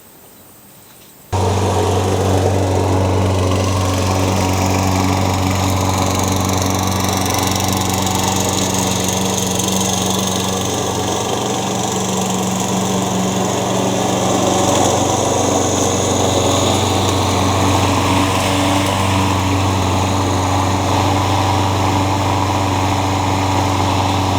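A revived curbside Craftsman lawn mower engine starts and then runs steadily at a loud, constant drone close by with no pauses.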